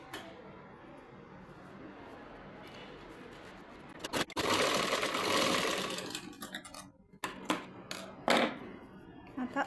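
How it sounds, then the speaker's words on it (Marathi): A sewing machine stitching two layers of fabric together for a baby frock, heard as fast rattling bursts of needle runs with short pauses and handling noises in between, fairly close. "फॅब्रिकला फॅब्रिक ठेवायचं आहे आणि पूर्ण अशी शिलाई मारून घ्यायची."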